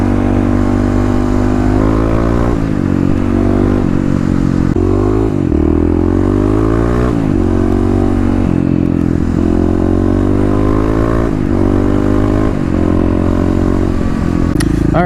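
A Kawasaki KLX351 motorcycle rides at night, its steady engine drone rising and falling as the rider shifts and works the throttle, loud and continuous throughout.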